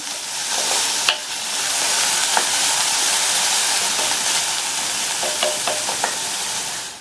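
Chopped onion, carrot and cabbage sauté in a hot pan, giving a steady, close sizzle with occasional clicks of stirring throughout and no talking.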